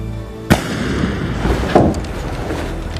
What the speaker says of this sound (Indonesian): tiba-tiba saja terdengar suara tembakan